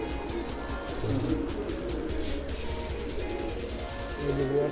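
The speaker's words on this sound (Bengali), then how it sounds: "চুইঠাল কবুতর" Chuithal pigeons give low, throaty coos in a loft, several birds close by, with soft rustling in the background and no talking.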